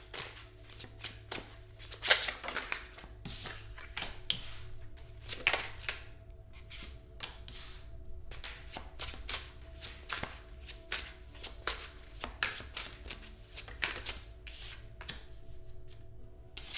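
Tarot cards shuffled and laid out by hand, a steady run of quick papery slaps, flicks and soft taps close by, with short pauses between bursts and no talking.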